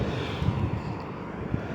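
A fixed-wing airplane at Midway (MDW) airport rumbles as a steady, fairly faint engine drone with a low broadband roar, heard outdoors for a short stretch without talk.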